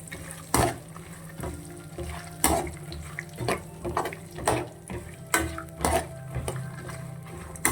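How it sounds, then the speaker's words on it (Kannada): Peanuts frying in a pan with a spoon, repeated clattering scrapes and knocks against metal over a low sizzle, close and irregular. "ಕಡಲೆ ಬೀಜ ಹಾಕ್ಕೊಂಡು ಇದನ್ನು ಕೂಡ ಫ್ರೈ ಮಾಡ್ಕೊಳ್ತಾ ಇದ್ದೀನಿ"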